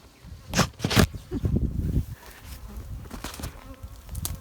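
Honey bees buzz close by at a horizontal Langstroth hive holding two colonies. A few louder passes fly near, over a low steady hum, with some faint bumping underneath.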